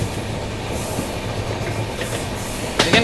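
A passenger train on the Naharlagun–Guwahati Shatabdi Express, heard from inside a vistadome coach: a steady, loud rumble of wheels on rails, with a brief clatter near the end.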